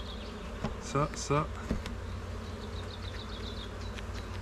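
Bees buzz inside a hive, a faint steady hum, while a virgin queen bee pipes two short, loud, pulsing toots near the start, followed by fainter high repeated notes, with a brief voice.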